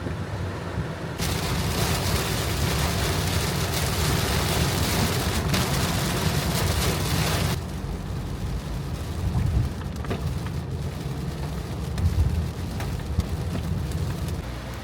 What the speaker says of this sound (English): right as I got here, it started pouring rain